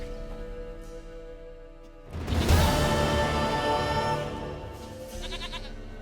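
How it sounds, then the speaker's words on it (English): A goat in The Witcher 3 lets out a loud, drawn-out bleat that breaks through a quiet ambient game background and holds for about two seconds before fading. "Goat of mine, dearest, sweetest goat."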